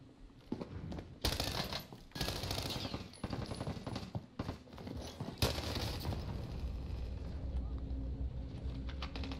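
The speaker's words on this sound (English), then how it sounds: "They're still shooting at me." Gunfire in the video game Call of Duty Warzone, with several close bursts of automatic fire at irregular intervals over a constant low rumble, while players talk throughout.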